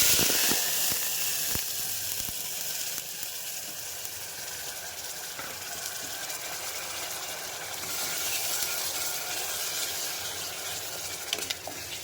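A freshly ground spice paste for egg gravy curry sizzles and hisses in hot oil throughout, with occasional scraping clicks of a utensil stirring the pan.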